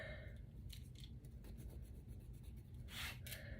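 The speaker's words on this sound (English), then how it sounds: "So you want to draw a pencil line at the bottom" Pencil scratching a line across paper for a diagonal scrapbooking border, several short rubbing strokes in quick succession, close and quiet, with a louder stroke near the end.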